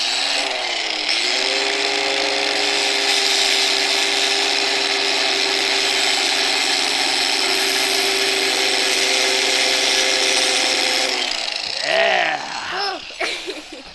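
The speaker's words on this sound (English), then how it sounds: "I'm going to be running this grinder across these bolts" An angle grinder runs continuously across metal bolts with a loud, sustained high whine for about eleven seconds, its pitch dipping as it bites and winds down near the end amid scraping.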